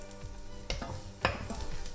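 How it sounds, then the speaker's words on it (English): Tenderstem broccoli sizzling in hot butter with garlic, salt and pepper in a pan, a steady close frying hiss broken by a couple of sharp stirring scrapes and clinks. "just watching my temperature because I can hear the sizzle"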